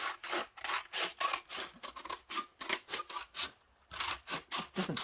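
Scissors trimming the edge of a page in an altered-book junk journal, heard as a run of repeated close rasping snips and rubbing strokes in uneven rhythm, with no talking.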